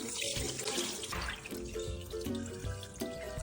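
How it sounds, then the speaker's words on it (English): Glutinous rice being rinsed under running tap water, a continuous splashing stream with drips and sloshing in a bowl, close and fairly quiet, with no talking. "we need to rinse the glutinous rice with clean water 3 to 4 times until the"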